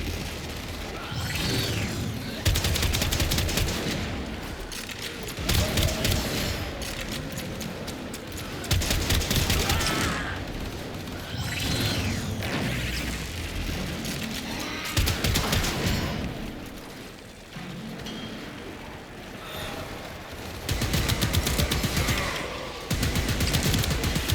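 Dense gunfire and explosive crashes in the Warframe video game, Steel Path mode, with repeated bursts of rapid fire and booming impacts continuing throughout and no speech.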